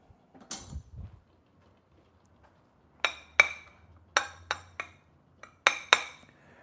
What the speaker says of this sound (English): Let me get another spoon for you.